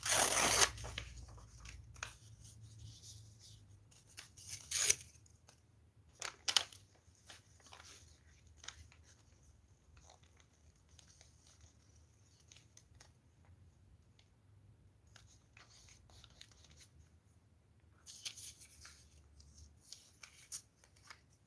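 Sheets of paper being handled and shuffled close by for collage work, with soft rustles, flicks and slides coming in scattered bursts between quiet gaps.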